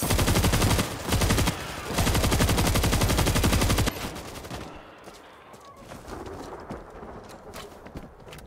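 Rapid automatic turret gunfire in the World War Z Aftermath horde mode video game, dense loud bursts for about four seconds, then fading to scattered distant shots and game noise.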